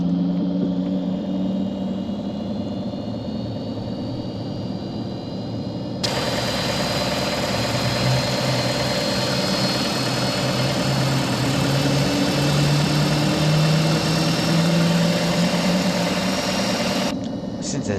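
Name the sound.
Citation Jet 525 jet engine starting up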